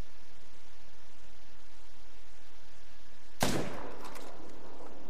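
A single sharp rifle shot at a red deer in theHunter: Call of the Wild cracks out of near-silence, followed by a short decaying echo across the landscape.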